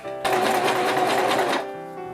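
A sewing machine fitted with a heavy duty needle stitches dress fabric in one close, loud burst of rapid whirring that starts abruptly, runs steadily for over a second, then stops.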